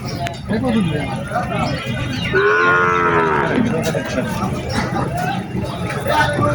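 Sahiwal cattle at a busy livestock market in Chowara, with one clear, drawn-out moo rising out of a steady crowd murmur and background bustle, fairly close.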